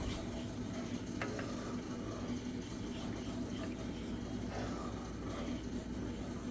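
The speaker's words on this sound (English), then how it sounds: "we're gonna stir this up" A cold and cough remedy mixture stirred steadily at close range, a soft continuous scraping and swirling with faint ticks, alone without talking.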